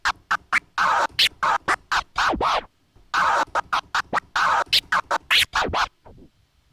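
A DJ scratches a record on a turntable, running through a five-part scratch pattern of rapid, choppy bursts and a slow baby scratch, loud and close with short gaps between strokes.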